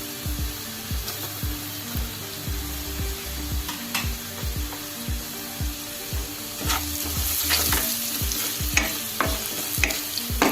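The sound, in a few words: onions frying in a pan with turmeric and salt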